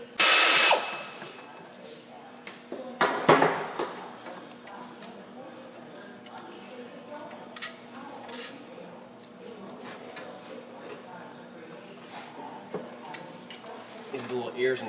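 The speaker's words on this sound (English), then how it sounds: "If you got a 1/2 inch ratchet, you can do that too." A ratchet works 10mm alternator bolts on a Ford 5.4L 2V engine, with scattered clicks and metallic clanks of tools on the job, plus a loud clatter near the start and another around three seconds.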